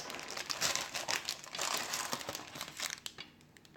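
Baking paper peeled off a freshly baked sponge cake, giving close, continuous crinkling and crackling with small tearing bursts that thin out toward the end.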